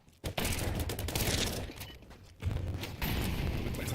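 Rapid automatic rifle fire in Counter-Strike crackles in dense, loud bursts, stopping briefly before another sustained volley, with no talk over it.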